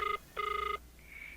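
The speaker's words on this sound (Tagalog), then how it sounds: "Adit, agriring ti cellphone na." A cellphone rings in a radio drama, two short electronic trilling bursts followed by a fainter tone, clear and close.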